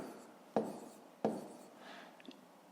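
Pen strokes on paper as numbers are written by hand for a school maths exercise: two sharp taps followed by short scratches, then a softer stretch of writing, close and quiet with no talk.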